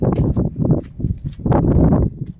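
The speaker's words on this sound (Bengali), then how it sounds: "আর এই যে এখন রোদের মধ্যে দিয়ে হেঁটে যাচ্ছি" Footsteps crunch outdoors on sandy ground under a hot sun, several close, uneven steps over a couple of seconds.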